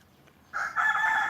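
A rooster crows nearby, a loud sustained call rising after a brief quiet start.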